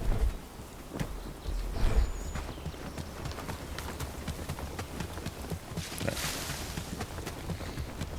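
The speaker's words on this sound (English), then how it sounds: "Back to Padstow as the sleet outside starts picking up." Stormy weather with sleet and rain in the medieval village game Bellwright, a steady wash of precipitation with rumbling gusts and rhythmic clip-clopping hoofbeats throughout, fairly close and without speech.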